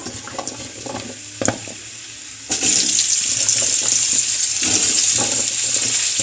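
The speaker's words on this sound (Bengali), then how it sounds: "তো ওই একই তেলে আমি আলুগুলো ভেজে নিচ্ছি বন্ধুরা" Potatoes frying in hot oil, a steady sizzle that grows louder and denser partway through, with clinks of a utensil near the start and no talk.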